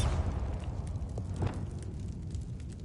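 A Bombarda blasting spell in Hogwarts Legacy erupts with a booming explosion over a crackling, fiery roar, with a sharper burst near the middle and sustained rumble throughout.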